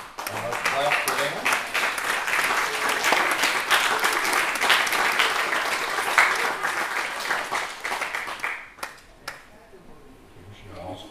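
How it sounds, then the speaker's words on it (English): Congregation in a church worship service applauding a family who came up front with their baby, sustained dense clapping for about eight seconds that then thins out and fades, with a few scattered claps and quiet voices at the end. "And let's clap for them."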